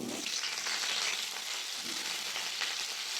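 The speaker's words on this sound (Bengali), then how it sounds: "এখানে সব ভেজে নেবো তেলের মধ্যে। দিয়ে দেবো সাদা তেল, কপিগুলো দিয়ে দেবো" Cauliflower florets frying in white oil with a steady, loud sizzle that crackles evenly throughout, and no voices.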